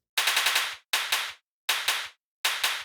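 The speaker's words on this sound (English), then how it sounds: "this cool clap sample that goes like this" A punchy clap sample in FL Studio, a layered snap with a bright noisy burst, played in four short bursts of rapid flam-like repeats separated by brief silences, loud and dry.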